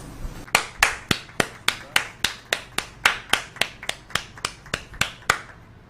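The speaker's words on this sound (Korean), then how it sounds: "박수 소리도 조금 나왔고요." Reporters clap after a press conference: a steady run of sharp, evenly spaced claps, about three per second, close and crisp, with no talking over them.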